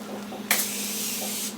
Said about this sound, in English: She has a setting spray too.